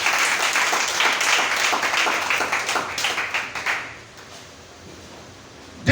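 A church congregation applauding, sustained loud clapping that builds, then thins into scattered claps and fades to near quiet.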